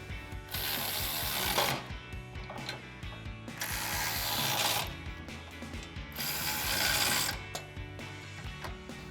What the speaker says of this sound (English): 17mm wrench to tighten this up.